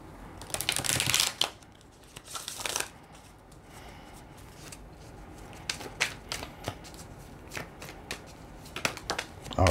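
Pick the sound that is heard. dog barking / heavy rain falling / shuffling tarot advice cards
shuffling tarot advice cards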